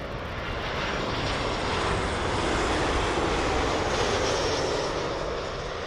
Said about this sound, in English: Here's the KLM from Amsterdam.